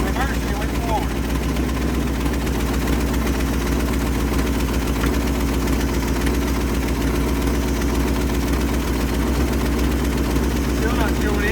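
A 1970 V8 Mustang engine, long abandoned, runs steadily in gear with a loud, continuous low rumble throughout, with a voice talking over it.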